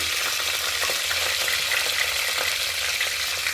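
Mint leaves and green chilies fry in hot oil in a pan for a Telangana-style mutton curry, producing a continuous dense sizzle at steady loudness with no voices.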